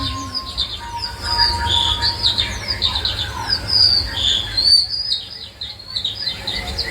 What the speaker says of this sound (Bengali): সে বাগানে করে ডাকাডাকি